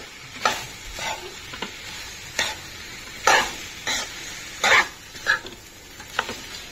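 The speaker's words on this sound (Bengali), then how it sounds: "একটু বড় আঁচ করে করে এগুলোকে এখনো ভাজছি" Chicken pieces fry in a dry pan over high heat with no oil, with irregular scraping stirs and bursts of sizzle every second or so, close and fairly loud.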